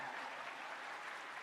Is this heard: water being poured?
no